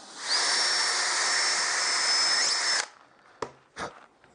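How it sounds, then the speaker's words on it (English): A power drill bores straight down into sacrificial timber on a workbench hook, a loud steady whine for about two and a half seconds that cuts off, followed by a couple of short knocks. "I'm going to drill straight down."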